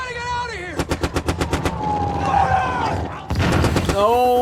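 Machine-gun fire in a World War II TV drama, rapid bursts of close, loud shots in a rhythmic string, amid battle noise and shouting voices.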